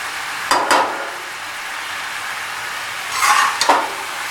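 Rice being stirred into hot sugar syrup in a pot for sweet zarda, with a steady close sizzle and two bursts of scraping stirring strokes, one early and one near the end.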